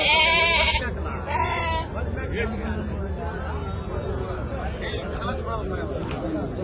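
Sheep and young ram lambs bleat at a busy Saturday livestock market, several loud calls up close over constant crowd chatter and voices talking.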